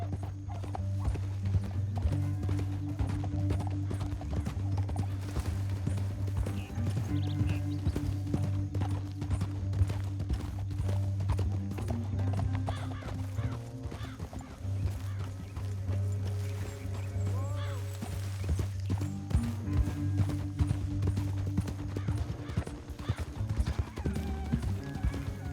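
Horse hooves clopping and drumming at a trot and gallop in Red Dead Redemption 2, steady rhythmic hoofbeats running throughout under a low droning score, with occasional whinnies and snorts.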